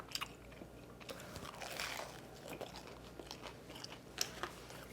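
Crisp crunching bites into a toasted Cuban sandwich with crispy cheese, followed by close, steady chewing over about five seconds, with no talking.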